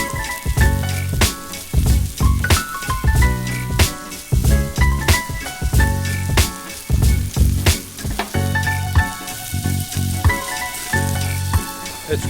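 Boerewors sausage on a Q Braai grill gives a loud, continuous sizzle packed with sharp crackles and pops, close up, with no voices.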